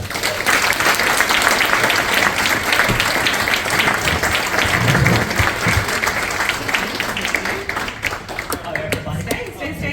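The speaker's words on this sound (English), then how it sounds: "a big warm round of applause to welcome Shelly Yam to the" An audience gives a full, warm round of applause to welcome a guest to an arts conversation event; dense clapping holds steady for several seconds, then thins out toward the end.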